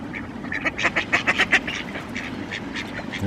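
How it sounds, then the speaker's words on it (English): Several ducks quack in a busy cluster at Queens Park, a run of rapid calls rising then thinning out, fairly close, with steady outdoor background noise underneath. "ducks everywhere come to see if you've got any food"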